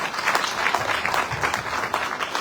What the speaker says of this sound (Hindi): तो एक बार जोरदार तालियां मेरी तरफ से इन सबके लिए.